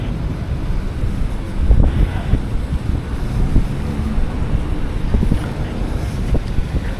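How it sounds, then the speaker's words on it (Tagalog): Heavy wind buffeting a microphone at the Pasig River Esplanade in Manila, a constant low roar with gusty thumps throughout, loud and close. "hindi ko alam kung malinaw yung audio dahil malakas yung hangin dito"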